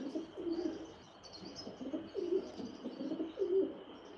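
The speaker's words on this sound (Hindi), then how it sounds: "मेरे कबूतर बो रहे हैं" Soft, low pigeon coos repeat every second or so, fairly close, with faint chirps and a steady background hum.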